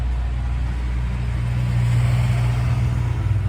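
A farm tractor towing a slurry tank rumbles past close by, a loud steady low engine drone that swells slightly as it goes by.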